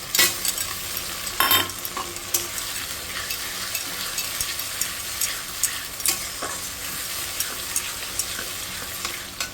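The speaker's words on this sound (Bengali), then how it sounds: "আর এখানে শুকনো লঙ্কা জিরে পেঁয়াজ দিয়ে একটু ভেজে নিচ্ছি।" Dried chillies, cumin and onion fry with spices in a pan, a soft, steady sizzle punctuated by frequent scrapes and taps of a stirring utensil.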